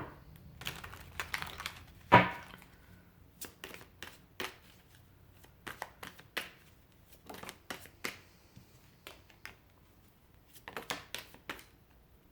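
Tarot cards are shuffled and drawn on a table in quiet, close rustles and crisp snaps. Short bursts of handling come and go.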